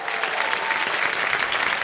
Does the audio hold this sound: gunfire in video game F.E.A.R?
no